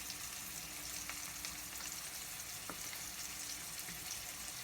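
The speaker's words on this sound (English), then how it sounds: "Let's put 2 tablespoons of butter. And then just let that melt there." Two tablespoons of butter melting in a heated pan for a sauce, a steady, even sizzle and faint crackle that holds for several seconds, close and alone, with no talking.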